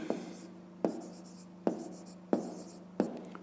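Handwriting an answer, probably chalk on a board for a maths exercise, heard as five evenly spaced sharp taps, each followed by a short scratchy stroke, close and fairly quiet over a faint hum.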